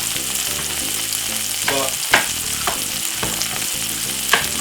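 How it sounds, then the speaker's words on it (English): Corned beef fries in a pan at home, a loud, close, continuous sizzle broken by a few sharper pops and stirring scrapes, with a single brief spoken word. "it's frying really good."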